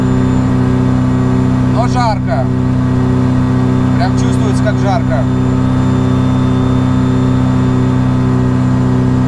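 A motor glider's engine climbing out after takeoff in dead-calm air, flaps set at 6, holds a loud, steady droning tone throughout, with a voice speaking briefly over it.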